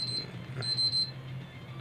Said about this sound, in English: Oh, quick double beep.